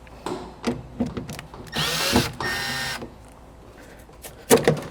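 A power driver buzzes in short bursts, with one longer run, removing the door panel screws on a Toyota 4Runner. Scattered clicks and handling noises fill the gaps between bursts, up close.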